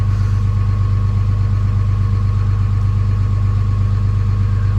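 A Dodge Ram with a Cummins 5.9 diesel engine idles after a cold start, a loud, steady low diesel rumble with an even mechanical clatter and no voices.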